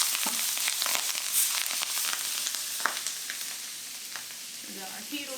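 Garlic sizzling and frying in a hot pan while kale is sauteed, a steady bright crackle with scattered pops and a few stirring scrapes throughout, close and moderately loud.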